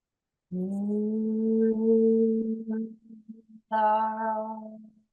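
A single voice chants the seed syllable "lam" as a long, low, droning tone, holding it, pausing briefly, then resuming with a brighter hum.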